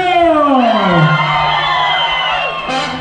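A festive crowd at a mayor's recognition event for a regional music group whoops and shouts loudly, voices sliding in pitch, sustained near and dense for the full few seconds.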